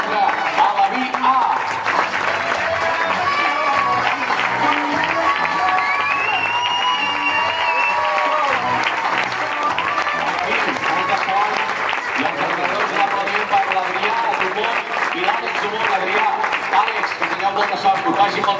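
Sustained applause from an audience greeting the Alevín A youth football team at a club season presentation, dense steady clapping with some cheering lasting the full stretch, a few voices mixed in.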